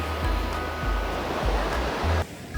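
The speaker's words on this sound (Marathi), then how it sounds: "इथली समुद्राची गाज ऐकली, इथल्या लाटा अनुभवल्या" Sea waves break and wash on Devbag beach in Konkan at dusk, a steady close roar of surf with repeated surges that drops off sharply near the end.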